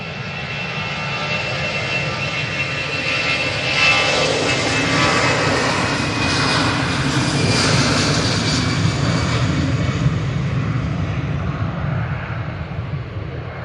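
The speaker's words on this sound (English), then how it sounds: "We're gonna get this Easyjet." An easyJet airliner's jet engines roar at Manchester Airport on a windy day, a loud broad rumble with a rising whine that swells and fades slowly as the aircraft passes, with no speech.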